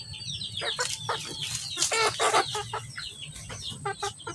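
Several chickens cluck and chatter close by in quick, overlapping bursts, with a low background murmur.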